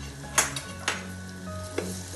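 Potatoes frying in a pan with a steady sizzle, broken by a few sharp scraping stirs of a utensil close up.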